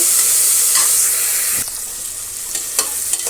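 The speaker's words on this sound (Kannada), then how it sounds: "ಎರಡೇ ಎರಡು ಟೊಮೆಟೊ ಹಾಕಿದರೆ ಫ್ರೆಂಡ್ಸ್ ಸಾಕು" Tomatoes frying in a pan for chicken biryani give a loud, bright, hissing sizzle that eases a little partway through, broken by a few scraping stirs, with no voices.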